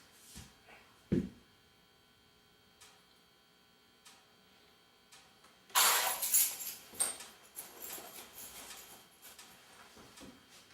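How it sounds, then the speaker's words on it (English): A set of keys is handed over during a live acting scene on a small stage. A sudden bright jangle bursts out midway and trails into rustling and clinks, after a few scattered soft ticks and knocks. "Here's your keys."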